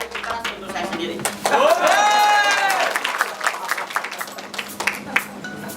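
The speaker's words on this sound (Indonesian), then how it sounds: "Tepuk tangan untuk Bapak Ibu sekalian" Audience applause at an Indonesian motivational talk by an alumnus speaker: a loud burst of clapping from a crowd, with a cheering voice near the start, tapering into scattered claps.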